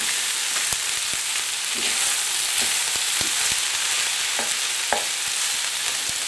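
Flour being stirred into hot oil in a frying pan while making cottage pie, giving a steady close sizzle with light scraping and tapping strokes throughout.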